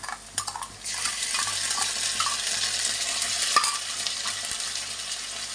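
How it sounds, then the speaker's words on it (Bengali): Onions fry in oil in a pan as spices go in, giving a continuous close sizzle with occasional stirring scrapes and a few small taps from a utensil. "পেঁয়াজটা এখন একটু লাল লাল করে ভেজে নেব"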